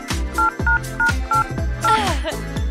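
A toy telephone keypad beeps out a quick run of dialing tones, about six short, evenly spaced beeps, loud and close, layered over busy background sound and faint voices.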